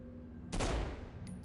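A sudden burst of gunfire from the video game Saints Row, a single loud fusillade lasting about a third of a second, followed by a fading tail and a brief high electronic tone.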